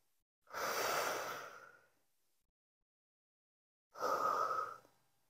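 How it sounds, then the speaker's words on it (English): Two deep breaths during a low-intensity home mobility workout, each a long airy exhale about a second and a half, separated by a few seconds of silence, close to the microphone. "Take a deep breath in, exhale and raise."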